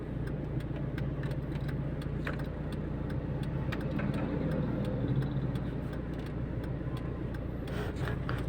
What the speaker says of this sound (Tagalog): May tricycle.